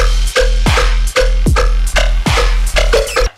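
Second part of an electronic dance music drop: loud, pounding bass with punchy kicks and sweeping downward synth hits repeating in a steady driving pattern, with no voices.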